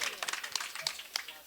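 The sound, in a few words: audience applause at an Alha singing event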